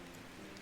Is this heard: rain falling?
yes